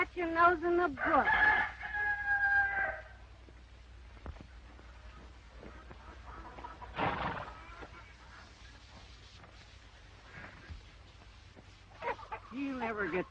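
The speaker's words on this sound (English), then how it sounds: "Abby, help me find that rooster." A rooster crows loudly and close by near the start of a 1934 film scene, with another crow later, while people talk at intervals over a quiet background.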